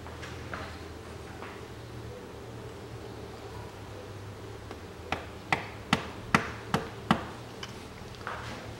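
A long 11 mm socket tapped with a hammer to seat a valve stem seal on a 1999 Mitsubishi Pajero iO 4G93 engine: six sharp metallic knocks in a steady rhythm, close and clear over quiet background, then a softer final tap.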